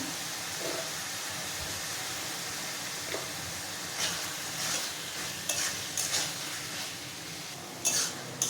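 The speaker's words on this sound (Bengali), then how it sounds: "চিকেন কিমাটা দিয়ে দিলাম কিমাটাও এখন ভালো করে কষাতে থাকবো" Chicken mince being stir-fried with spices in a pan, a steady close sizzle with a spatula scraping and stirring and a few brighter clinks from the pan.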